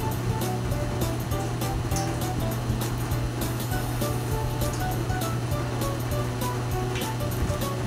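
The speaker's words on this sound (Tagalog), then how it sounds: "Hintayin natin siyang kumulo." Clams boiling in a pot for sinuam na halaan soup, a loud, steady bubbling rush heard up close over a low hum, with no talking.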